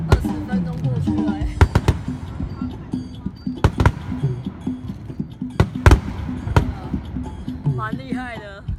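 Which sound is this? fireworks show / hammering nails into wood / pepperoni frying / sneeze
fireworks show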